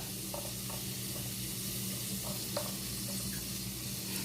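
Minced garlic and onion frying in a pan, a soft, continuous sizzle with occasional stirring scrapes and light taps, under a low steady hum and without talk.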